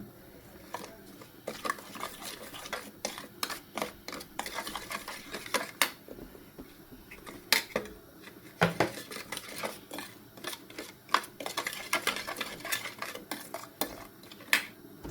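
A spoon stirs spice masala into cut mango pickle in a bowl, giving a steady run of close metallic clinks and scrapes with uneven rhythm.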